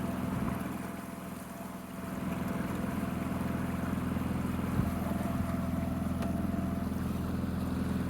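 An outboard motor idling on a sailboat, a steady low hum that holds evenly from start to finish, with faint wind and water underneath and no talking.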